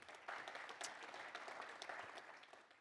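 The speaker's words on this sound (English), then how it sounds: "Give them a round of applause," A conference audience applauds the event sponsors with a steady wash of clapping hands, fairly distant and continuous for the few seconds, with no voices over it.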